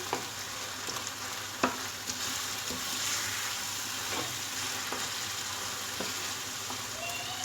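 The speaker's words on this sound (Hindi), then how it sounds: "इसे अच्छी तरह दबा दबा के हम भूनते रहेंगे मसाले को अच्छी तरह।" Spicy masala for eggplant bharta frying in a pan, a continuous close sizzle broken by periodic scraping taps as it is pressed and stirred with a spoon.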